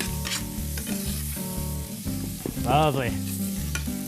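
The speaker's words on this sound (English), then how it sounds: "Another good stir around here." Braised short ribs sizzle loudly in a hot pot while a spoon stirs them with repeated scraping strokes, the frying hiss steady throughout; a voice briefly speaks one word.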